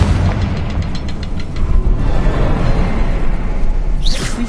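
A Confringo blasting curse explodes in Hogwarts Legacy, a loud rumbling boom with a rushing, crackling tail that sustains for several seconds, closing with a brief higher whoosh.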